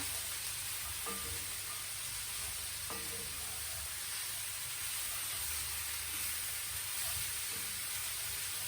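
Chickpeas go into a sizzling pan with spices and broccoli, giving a steady frying hiss throughout, with a couple of soft clicks from stirring.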